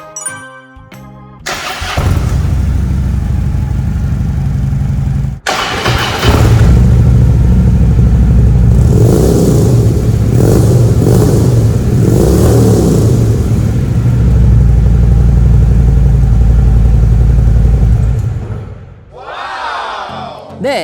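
A 2013 Harley-Davidson Ultra Classic motorcycle with about 44,000 km cranks and fires up, then idles and revs loudly nearby in bursts for over fifteen seconds before the engine cuts off.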